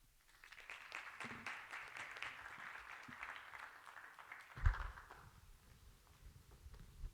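An audience claps at a talk on energy-efficient Passive House buildings, a loose, moderate applause that swells and then fades, with a single louder thump partway through.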